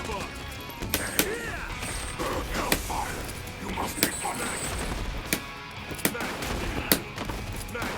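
Rapid bursts of gunfire from Marvel vs Capcom Infinite, sharp repeated shots spaced irregularly over busy fight-game effects, with a voice speaking at times.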